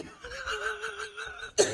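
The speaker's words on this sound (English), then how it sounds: "I think I'm coughing too much to talk about" A strained, wheezy vocal sound ends in a sharp, abrupt cough burst, close and moderately loud.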